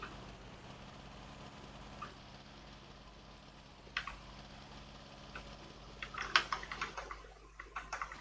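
Computer keyboard keys clicking in scattered faint taps over a low steady hum, growing into a quicker burst of louder keystrokes near the end.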